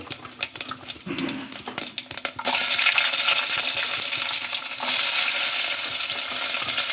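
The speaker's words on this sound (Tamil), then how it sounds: "வெங்காயம் நல்லா வதங்கட்டும்" Onions drop into hot oil with a little fennel seed with a few clatters, then a loud, steady sizzle of frying fills the pan and keeps going.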